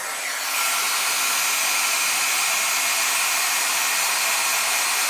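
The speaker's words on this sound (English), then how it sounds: "I'm going to take out the heat gun and heat this up just a little bit and tweak it" A heat gun blows hot air onto a plastic servo horn on a Redcat RC vehicle, a loud, close, continuous whooshing roar that starts abruptly and holds steady.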